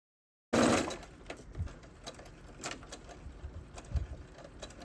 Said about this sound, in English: you're gonna stitch 5/8 of an inch on the edge of the pocket